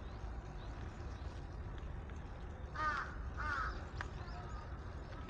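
Crows in a Tokyo park during cherry blossom season let out two quick caws, moderately distant, over a soft, steady outdoor hush.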